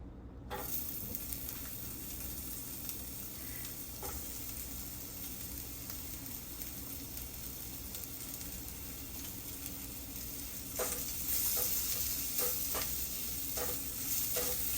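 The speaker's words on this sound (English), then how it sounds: "It should be sizzling hot." Sliced Turkish sucuk sausage sizzles steadily in a hot pan, a constant crackling hiss with occasional pops and stirring scrapes, growing slightly louder near the end.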